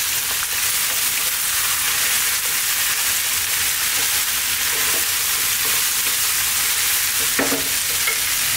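Cooked black-eyed peas frying in a hot pan for a vegan vegetable curry, a steady loud sizzle running throughout with occasional scrapes of stirring, no voices.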